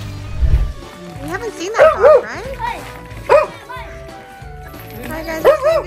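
Sled dogs yip and bark excitedly in bursts of short, high calls, close by and mixed with people talking and laughing.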